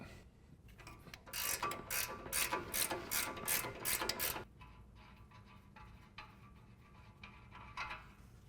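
An 18 mm wrench ratchets in a rapid, loud burst of clicks while loosening a sway bar end link nut on a 2015-2020 Ford F-150 front suspension, then quieter, sparser clicks and clanks follow.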